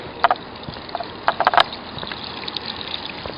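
Water splashes and gushes into a tube of an AquaDam water anchor used on a hurricane roof tarp, with a few sharp splashy bursts over a steady wash of flow.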